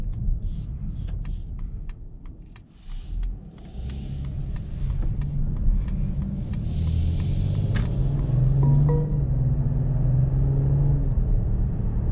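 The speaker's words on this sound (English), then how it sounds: "So driving this 2021 Mercedes-Benz E450 Wagon, super comfortable, super smooth" Steady road noise and low engine rumble from a 2021 Mercedes-Benz E450 All-Terrain wagon being driven, heard from inside the cabin as a continuous, moderately loud drone with a few light clicks and no talk.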